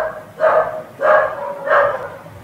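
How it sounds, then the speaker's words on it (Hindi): Three dogs bark one after another at a steady pace, each bark a short sharp burst standing out clearly against a quiet background, fairly near. "ये कुत्ते भौंक रहे हैं"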